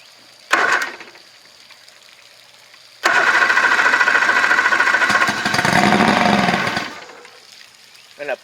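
The outboard motor on a 1984 Grady White Overnighter 20 boat cranks briefly, pauses, then catches and roars for about four seconds, loud and close, before cutting off.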